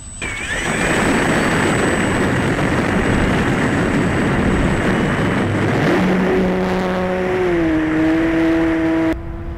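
A loud, continuous buzzing engine drone of an autonomous ArduPilot model airplane looping overhead, with a high whine and pitch shifts as it moves along.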